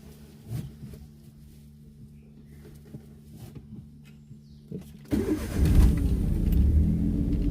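A car engine idles with a low, steady hum, then jumps to a louder, rougher rumble as it takes up load, staying heavy to the end.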